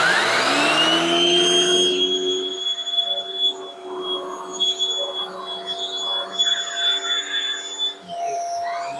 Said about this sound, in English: So if you want to use this little power tool, you turn it on, and through suction of the vacuum,